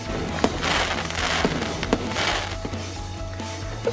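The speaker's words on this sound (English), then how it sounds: "The fireworks shows are over" Fireworks exploding over Huntington Beach, California, around the July 4 holiday, heard as a dense run of crackling bursts and sharp pops layered over a steady low rumble, with several louder cracks standing out.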